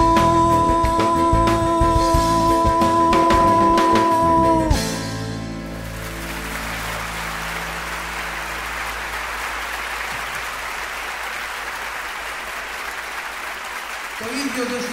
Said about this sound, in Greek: Το ίδιο ζεστό χειροκρότημα στον κύριο Γιώργο Πετριβάνογλου, τη Θάρα.